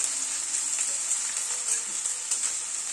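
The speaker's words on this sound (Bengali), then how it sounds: "গ্যাসের ফ্লেমটাকে মিডিয়ামে রেখে পেঁয়াজটাকে হালকা করে ভেজে নিচ্ছি" Chopped onions fry over a medium gas flame in a pan tempered with fenugreek seeds, giving a bright, steady sizzle with faint crackles throughout and no talking.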